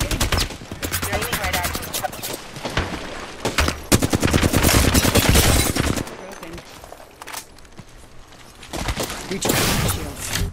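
Rapid automatic gunfire from the Apex Legends battle royale shooter, loud dense bursts of repeated shots with brief pauses, heard alongside a person talking during the match.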